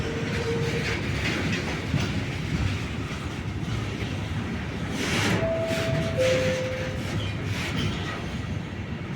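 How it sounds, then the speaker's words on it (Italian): A Trenitalia Frecciarossa high-speed train pulls into Padova station, a steady low rumble of wheels on rails filling the platform, with two brief tonal squeals or chimes rising midway through. "Il treno alta velocità Frecciarossa 97-28 di Trenitalia, proveniente da Venezia Santa Lucia e diretto a Milano Centrale, delle ore 12:16, è in arrivo al binario 3."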